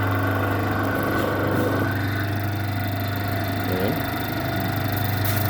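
A Mollar T800 airless paint sprayer machine runs with a steady motor hum and drone, loud and close, its pitch shifting slightly partway through.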